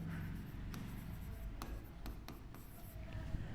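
Pen writing a table of values on paper, a faint, soft scratching with brief strokes and taps beneath a low background hum, with no voice heard.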